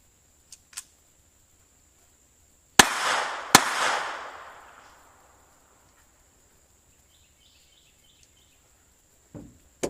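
Two sharp, loud pistol shots from a Tanfoglio GT-27 about a second apart, each with a decaying outdoor echo, followed by quiet and a few faint metallic clicks and handling sounds.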